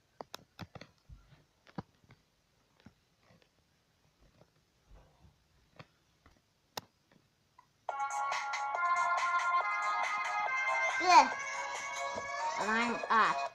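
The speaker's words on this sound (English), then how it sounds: "Well, that's my alarm." An alarm rings loudly and steadily for several seconds with a warbling electronic tone, following a stretch of quiet with sparse clicks and taps.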